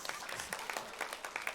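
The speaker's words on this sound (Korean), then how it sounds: "박수 한번 쳐주세요." A church congregation at a family Sunday worship service claps in a short burst of scattered, uneven hand claps that sound faint and somewhat distant, with a little voice mixed in.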